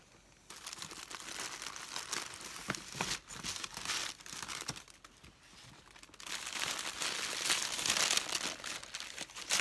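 Tissue paper crinkles and tears steadily while baby gifts are unwrapped indoors, a dense, close rustling that swells louder in the final seconds, with no talk over it.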